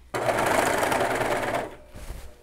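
An overlock sewing machine stitches the seams of tactel shorts in one loud, rapid, close burst of about one and a half seconds, then stops, followed by faint handling noise.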